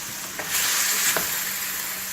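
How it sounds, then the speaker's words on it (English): Steady sizzling hiss of pork ribs stir-frying in a hot pan, with a couple of faint scraping stirs; close, continuous, no voices. "Right now, I'm just stir frying it a little bit"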